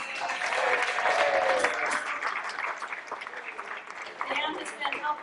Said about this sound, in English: one more round of applause to give it up for Dan Simpson and Privateer doing sound